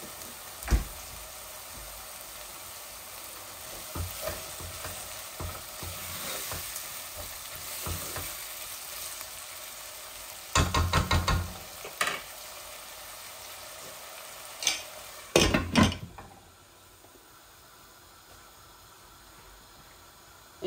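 Ginger garlic paste frying in hot oil and being stirred in a pan while cooking chicken curry, a steady sizzle broken by scraping stir strokes that bunch up in the middle and near the end, then settling to a quieter hiss.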